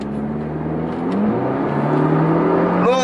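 An Audi TT Coupe MK2 quattro pulls hard, its engine note climbing steadily and loudly, with a quick gear-change dip and then a rising whine near the end.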